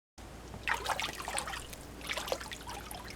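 Water trickles and splashes softly and close by, starting abruptly after a brief silence and running unevenly with small bursts of splashing throughout, with no voices.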